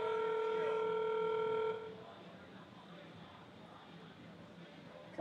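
A telephone rings on the far end of a call, one steady electronic ring tone heard through the handset for under two seconds before it cuts off, leaving faint line hiss.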